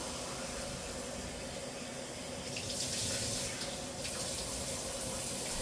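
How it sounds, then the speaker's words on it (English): Water runs steadily from a kitchen tap into a measuring cup, a constant close hiss that swells slightly partway through as the cup fills. "so let's get some water in there."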